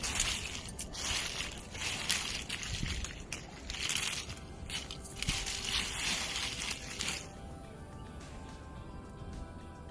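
Sun-dried chillies, some of them soaked in tamarind water, rattle and crackle with dry papery crunching, loud in bursts for the first several seconds, then easing to a faint rustle.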